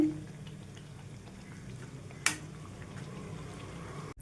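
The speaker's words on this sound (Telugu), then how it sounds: "చూడండి పూరి అయితే మనకి ఈ విధంగా వేగాలండి" Puris for Guntur-style malpuri deep-frying in hot oil, a soft continuous bubbling hiss with one sharp clack of a utensil partway through; close and steady, no voices.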